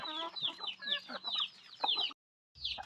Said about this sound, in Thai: ดูแม่ไก่พันไข่นะครับ